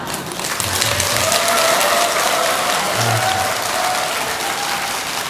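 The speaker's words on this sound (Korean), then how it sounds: "예, 이쪽 박수가 좀 적다." An audience applauds at a Buddhist dharma talk, a full and sustained patter of many hands that holds steady for several seconds, with a faint tonal hum beneath it.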